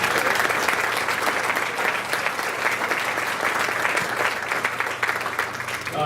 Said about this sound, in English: Can we give Charlene a round of applause?